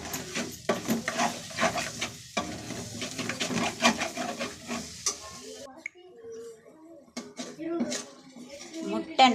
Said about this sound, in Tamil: அப்படியே மெதுவாக கிண்டி விட்டோம்